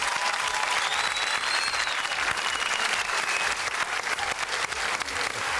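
A studio audience on a Turkish dance competition show claps loudly and continuously, a dense sustained wash of applause with scattered whistles and cheers.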